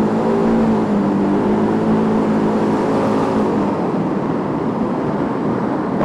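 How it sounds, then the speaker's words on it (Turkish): Suzuki Burgman UH 200 scooter engine held at a steady, loud drone with slight throttle rises, continuous and close with no talking over it. "Gaza dokun azıcık."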